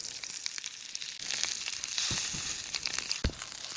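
The edge of a steak sears in a hot pan just starting to smoke, with rendering fat giving a dense, steady sizzling hiss and close crackles that swell louder midway, with a few sharp pops near the end.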